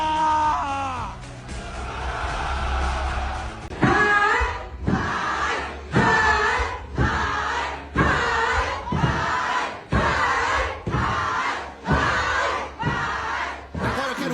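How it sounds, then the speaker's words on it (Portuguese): A large crowd shouts back in unison at a live event, roaring in about ten loud, rhythmic bursts with short gaps between them, the voices massed and close. "Cadê o grito de vocês?"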